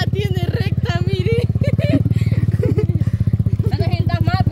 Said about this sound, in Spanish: La moto está buena.